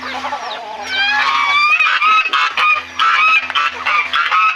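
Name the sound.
geese honking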